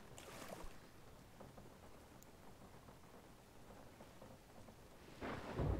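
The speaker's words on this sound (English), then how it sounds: "We're in a storm again." A thunderstorm at sea in the game Sea of Thieves sounds as a faint, steady wash of rain and rumbling, with a louder thunder swell near the end and no voices.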